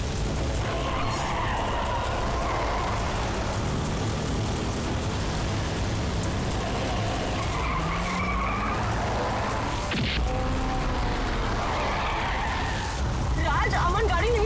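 A car skids and is driven erratically, with a long stretch of harsh, continuous tyre and engine noise that stays loud throughout under a dense, dramatic soundtrack.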